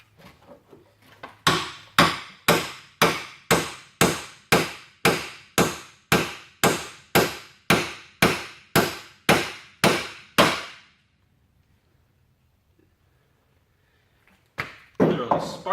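Hammer blows on a hard 3V steel knife blade during a stress test: about fifteen sharp, evenly spaced metallic strikes in a rapid steady rhythm, close and loud, then near silence before a final couple of impacts.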